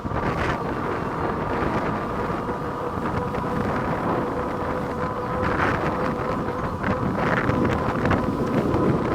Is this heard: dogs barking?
no